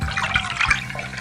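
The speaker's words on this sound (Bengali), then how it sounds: "এবারে কলসিটাকে ভালো করে জল দিয়ে ধুয়ে" Water splashing and trickling as a clay pot is rinsed in an animated cartoon scene, a short, close burst of bubbly liquid sound with no voices.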